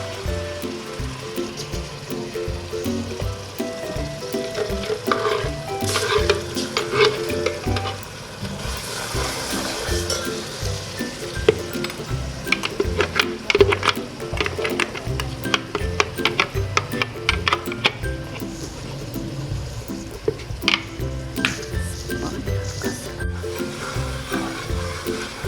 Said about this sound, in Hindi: प्याज को भी अदरक लहसुन के साथ भून लिया